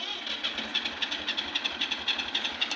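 A tractor engine running near buffaloes on a farm. A steady, rhythmic low chugging with regular pulses sounds close and moderately loud throughout, with no talking.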